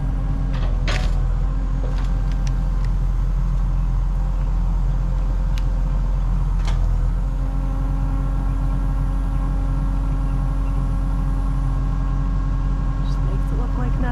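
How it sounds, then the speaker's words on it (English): A skid steer on a farm lifts a stack of limb wood for firewood, its engine a steady, close, heavy rumble with scattered clanks and knocks, and a person speaks over it. "it's crazy what the skid steer can lift"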